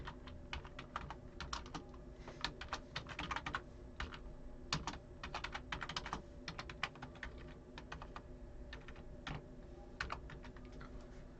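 Computer keyboard typing, rapid quiet key clicks in irregular bursts with short pauses, close and continuous throughout.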